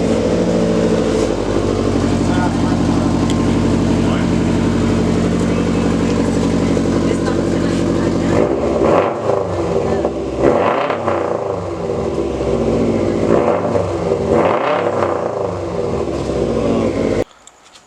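A Subaru STI with a straight-piped exhaust idles loudly with a deep, steady drone, then is revved in several rising and falling bursts before cutting off abruptly at the end.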